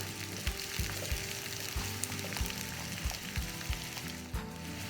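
Garlic, onion, ginger and curry leaves sauté in hot coconut oil for Kerala sambar, giving a loud, continuous close sizzle broken by regular stirring knocks against the pan, with no speech.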